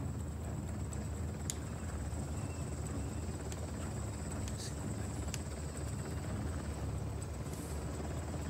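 Helicopter in Uncharted: The Lost Legacy thrums as a continuous low rotor rumble, with a few sharp clicks and bursts scattered over it and a voice talking faintly in the background.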